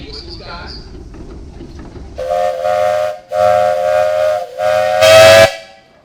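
Several loud steam whistle blasts from a 1914 Case 50-horse steam traction engine at a steam tractor show, three sustained toots with brief gaps and a final harsh burst, preceded by faint talk and background noise.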